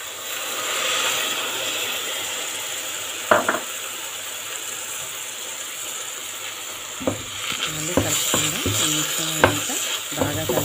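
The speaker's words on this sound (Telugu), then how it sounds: "ఇప్పుడు మిల్క్ పోసుకుందామండి" Milk poured into carrot halwa in a pan, then stirred on a slow flame: a steady sizzling, frying hiss with a brief splash early on and a run of quick scraping, clattering stirring strokes near the end.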